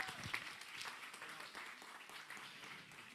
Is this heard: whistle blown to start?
no